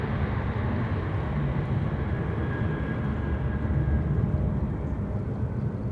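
An Iraqi Airways flight from Erbil arriving at Amsterdam Schiphol, a continuous low jet rumble heard at a distance, steady and unbroken without voices.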